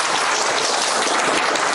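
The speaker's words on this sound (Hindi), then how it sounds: "मैडम के लिए ताली बजाओ" Audience applause for a female police inspector at a gathering, a dense, steady clatter of many hands clapping throughout, fairly loud with no talk over it.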